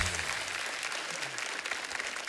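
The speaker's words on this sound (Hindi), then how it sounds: "एक बार जोरदार तालियां" Studio audience applause on a comedy talk show greets the guests, a continuous bright patter of many hands, fairly steady and moderately distant, with a brief low voice at the start.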